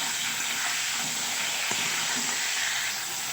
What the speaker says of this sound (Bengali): সিমগুলোকেও আমি একটু তেলের সঙ্গে নাড়াচাড়া করে নেব